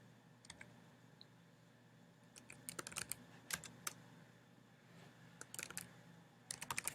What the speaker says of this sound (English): I'm going to type in the password